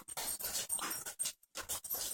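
Dog whimpering and whining in a room, several short broken bursts with brief pauses, fairly close.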